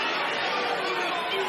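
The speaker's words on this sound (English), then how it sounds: "And what you're hearing is the crowd" Dense, steady roar of a large boxing arena crowd during the Berchelt vs Roman fight, loud and continuous with no distinct chant rhythm.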